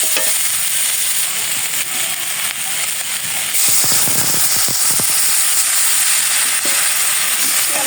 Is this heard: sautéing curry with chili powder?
yes